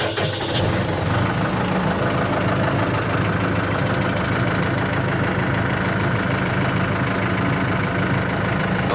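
A farm vehicle's engine idles steadily while warming up, a loud, continuous low rumble that holds an even level throughout with no voices.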